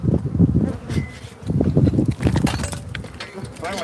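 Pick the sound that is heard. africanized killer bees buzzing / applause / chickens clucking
africanized killer bees buzzing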